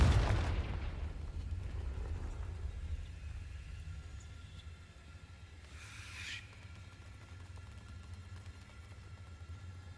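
A Confringo fire-blast spell from Hogwarts Legacy bursts loudly at the start, then fades into a low, steady rumble with a faint flare midway.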